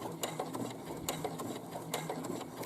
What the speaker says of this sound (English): I'm just stitching neatly along there, making sure I catch both edges together